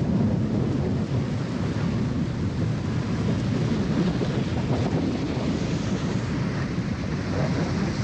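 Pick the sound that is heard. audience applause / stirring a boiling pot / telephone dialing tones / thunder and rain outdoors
thunder and rain outdoors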